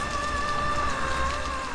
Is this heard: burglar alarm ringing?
no